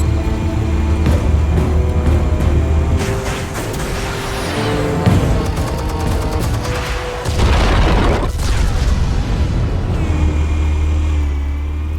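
Explosives go off in Batman: The Telltale Series, a loud, dense boom with heavy rumble and tonal game music layered over it, followed by sustained debris noise and another burst, no talking.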